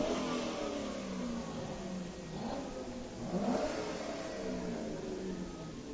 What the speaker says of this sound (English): As the Corvette parade comes to a halt here, they pass us by